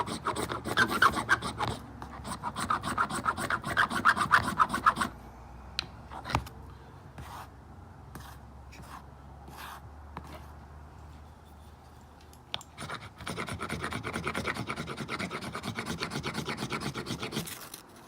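Knife blade scraping wood into a pile of shavings, loud rasping strokes up close, then a quieter stretch of scattered scrapes before steady scraping resumes.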